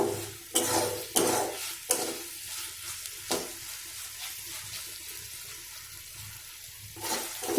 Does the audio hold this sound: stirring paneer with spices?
yes